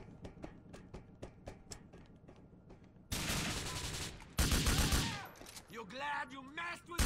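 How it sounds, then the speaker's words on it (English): Gunfire in the video game Grand Theft Auto IV: a steady series of rapid shots, then a loud, dense burst of fire and noisy chaos with shifting tones toward the end. "I saw another one shooting"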